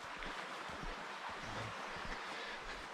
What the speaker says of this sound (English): Some really nice sounds coming out of that bit of brook there.